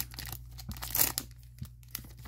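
A Cardfight Vanguard booster box being torn open, with brief close tearing and crinkling of cardboard and wrapper in a few quick bursts.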